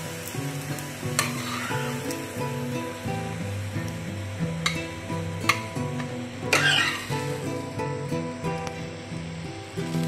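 Palak bhajani thalipeeth, a spinach flatbread, frying in a pan with a steady loud sizzle, punctuated by a few sharp scraping clatters as it is flipped.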